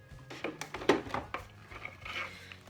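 A spoon works through a cream mixture in a bowl, giving a series of close, irregular clinks and scrapes against the dish, fairly quiet, with no talking.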